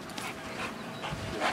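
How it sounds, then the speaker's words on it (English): A working dog at a bitework session pants rapidly and steadily up close, its breathy rhythmic huffs filling the moment with no talk. "That's a working dog right here."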